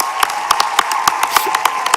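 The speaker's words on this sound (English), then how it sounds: "Another round of applause for all the contestants." Audience applause for contestants at a school talent-style pageant show, a steady wash of clapping from many hands with sharp individual claps punctuating it throughout.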